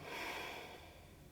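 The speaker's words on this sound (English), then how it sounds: "a long deep breath in, and a long deep breath out" Slow, deep breathing during a yoga rest after backbend drills, a soft, airy inhale-exhale that is fairly close and quiet, steady for the short stretch with no talk.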